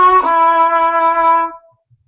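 A single bowed violin note held with vibrato rings out clearly and alone for about a second and a half, then stops, leaving silence.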